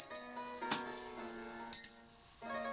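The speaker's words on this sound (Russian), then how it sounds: "звон безвозвратно удаляющихся бубенцов" Bright metallic bell rings sound in two distinct strikes with a lingering shimmer that decays between them, clear and fairly close, with no voices.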